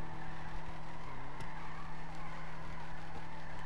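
A car drifting in GTA 5, with tires skidding and squealing over a constant steady engine drone, heard close and continuous with a brief pitch dip midway.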